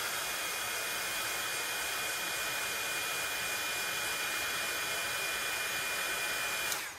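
A heat tool blows over a watercolor-painted card, giving a steady, fairly quiet airy whir with a thin high whine that cuts off at the end.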